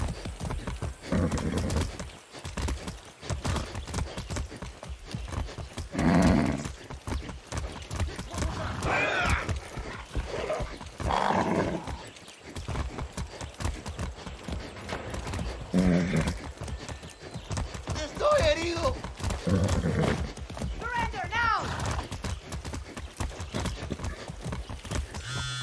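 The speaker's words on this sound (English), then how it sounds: "That's a good horse." Horse hooves clip-clopping at a gallop in the Far Cry 6 video game, a steady rhythmic beat with occasional whinnies, mixed under talk and game sounds.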